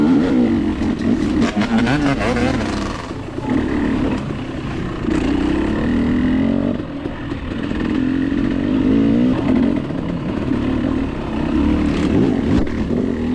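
A KTM 300 dirt bike engine roars steadily and loudly as it climbs a hill in 3rd gear during a hare scramble race, holding a continuous rough drone with small surges in throttle throughout.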